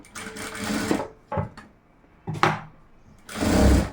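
A sewing machine stitches around the neck lining of a blouse in several short whirring bursts of varied length, separated by brief quiet pauses, heard up close.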